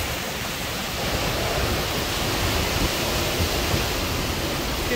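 Hurricane Ian storm in North Port, Florida: a steady, dense roar of wind and driving rain that stays loud and unbroken throughout, with no talk.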